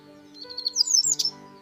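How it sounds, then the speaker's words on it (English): Bright, high finch chirps in a quick cluster of short tweets, clear and close, with a steady soft tonal hum underneath. "Finch."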